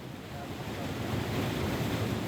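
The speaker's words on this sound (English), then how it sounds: "the wastewater is left to flow right through it" Untreated wastewater pours through a flood-damaged treatment works in Germany, a broad, steady rushing roar of moving water, fairly distant and unbroken, with no voices over it.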